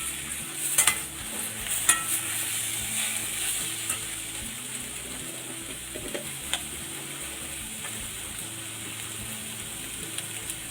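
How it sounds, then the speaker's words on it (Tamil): Tomatoes being stirred into frying masala for chana masala gravy, with a continuous close sizzle and repeated scraping clinks of a spoon against the pan. "நம்ம தக்காளியை சேர்த்துட்டு இந்த மசாலா கூட இது நல்லா மிக்ஸ் ஆகிடும்"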